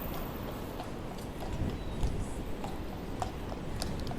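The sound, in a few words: horse hooves clip-clopping on Blackpool seafront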